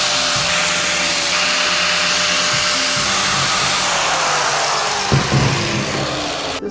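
A vacuum cleaner roars steadily inside a VW bus during cleanup, a constant broadband whine with a brief bump of knocking near the end, no voices.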